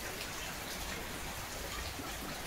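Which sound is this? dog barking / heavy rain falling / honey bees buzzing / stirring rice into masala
heavy rain falling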